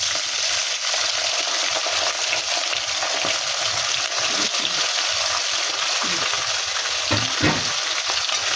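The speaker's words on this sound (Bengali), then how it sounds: "এই মাছ ভাজা হয়ে যাচ্ছে" Turmeric-and-salt-rubbed fish sizzle steadily in hot oil, a dense continuous crackle with occasional sharper pops and light stirring scrapes, close and fairly loud, no voices.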